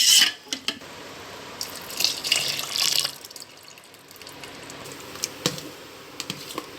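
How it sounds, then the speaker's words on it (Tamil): Water poured from a tumbler into hot rice flour batter for koozh vadagam, a short splashing pour with scattered clinks and taps of the vessel, no voices. "கொஞ்சோண்டு ஒரு டம்ளர் தண்ணி வந்து நம்ம ஊற்றிக்கலாம்"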